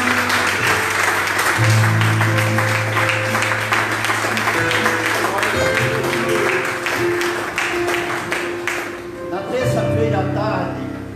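Church congregation applauding with dense, steady clapping that fills the whole stretch, loud and close, while sustained musical tones hold underneath.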